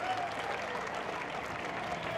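Parade spectators applaud baton twirlers and dancers from a dance studio at the Strolling of the Heifers parade in Southern Vermont, a brief, even wash of distant clapping from a crowd outdoors.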